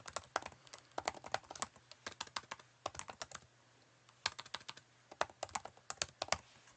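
Rapid clicking of computer keys in bursts, close and fairly quiet, with a short pause in the middle; no talking.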